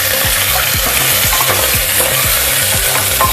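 Mutton fries with onions in a pan, giving a loud, dense sizzle, with regular stirring scrapes every few tenths of a second, close and continuous with no voices.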